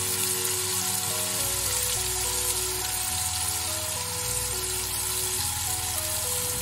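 Cajun-spiced cod sizzles steadily in a hot pan while being basted, a dense continuous frying hiss with faint bubbling running the whole time, no voices.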